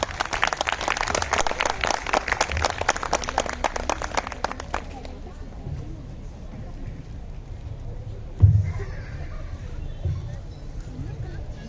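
Applause from an audience at a school prize distribution ceremony, dense clapping for about five seconds that then stops, leaving quiet room murmur and a brief knock.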